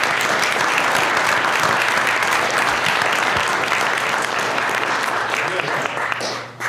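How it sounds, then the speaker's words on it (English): A large audience gives a sustained, loud round of applause at a talk event, dense clapping that holds steady before tailing off at the end. "First of all, round of applause."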